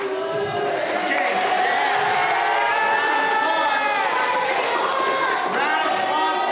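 Students at a school assembly cheer and shout loudly, with scattered clapping under the sustained crowd roar that fills the whole stretch.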